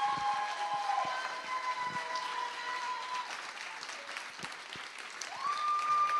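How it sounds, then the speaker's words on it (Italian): Theatre audience applauds at a new-voices singing festival, a fairly soft, spread-out clapping heard from a distance, with sustained tonal notes and a rising whine running through it. "Vogliamo sentire l'applauso del teatro?"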